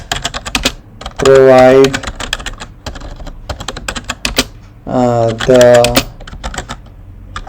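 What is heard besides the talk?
typing an email subject on a computer keyboard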